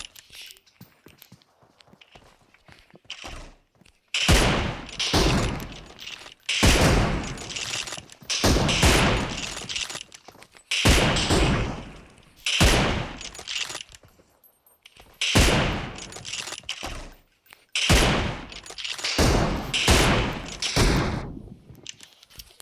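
Rapid gunfire bursts from a video game crackle in repeated volleys with short gaps between them, loud and dense throughout, with a voice speaking faintly at times.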